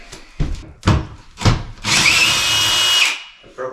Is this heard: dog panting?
no